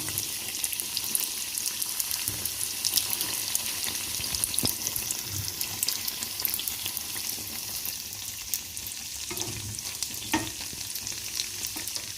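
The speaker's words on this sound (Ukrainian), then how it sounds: "Пожарилися з другої сторони до такої рум'яної шкориночки і забираю їх геть." Zakarpattia Christmas doughnuts fry in hot oil with a steady crackling sizzle, occasional pops, and a few clinks and stirring sounds nearby.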